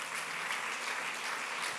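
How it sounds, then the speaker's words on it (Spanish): A church congregation applauding during a Sunday service, steady dense clapping from many hands, continuous and fairly faint over the short stretch. "Démosle otro aplauso al Señor."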